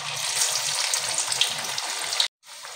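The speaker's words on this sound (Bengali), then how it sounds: "প্রথমে আমি মাছের চপগুলো ভেজে নেব।" Fish chops, or pakora, fry in hot oil with a loud, continuous close sizzle and bubbling crackle that cuts off abruptly near the end, then resumes more softly.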